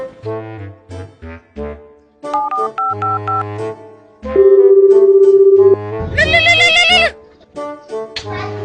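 A loud electronic phone ringtone plays a bright, stepping melody of tones, pausing briefly, then swelling into a denser, buzzier burst before fading.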